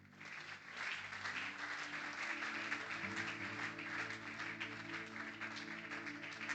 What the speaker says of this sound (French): quelqu'un acclame très fort pour le Seigneur